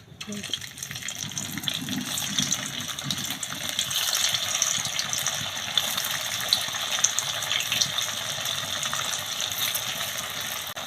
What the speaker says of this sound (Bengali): তেল গরম হয়ে গেছে তেলের মধ্যে এক এক করে পনিরগুলো ছেড়ে দেবো